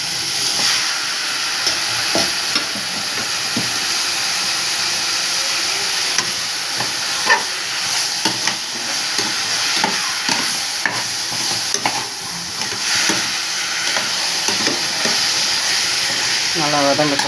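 Mutton sautéing in a pan for a spicy mutton gravy, with a steady loud sizzle and hiss and occasional stirring scrapes throughout.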